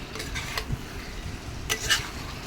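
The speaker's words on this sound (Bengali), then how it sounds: "ভেজে রাখা পটল এবং আলুটা আমি দিয়ে দেবো। ওইটাকে ভালো করে কষিয়ে নেব।" Spice paste with fried pointed gourd and potato being stirred in a pan: a few soft, scraping strokes over a faint sizzle, fairly quiet, with no voices.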